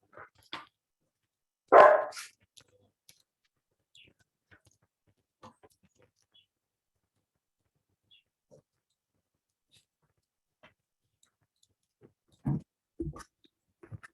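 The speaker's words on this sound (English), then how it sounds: "I need to check why this dog is barking" A dog barks a few times at a distance, one sharp bark early and a short cluster near the end, separated by long near-silent gaps.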